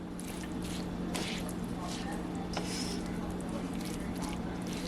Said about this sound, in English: so we're just gonna stir this all together